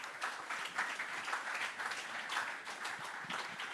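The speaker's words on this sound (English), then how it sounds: "Please, can you give me a round of applause for these wonderful people?" A conference audience at a Bitcoin event in Cape Town applauds as the MCs come on stage, a moderately loud, continuous rattle of clapping that swells and dips slightly.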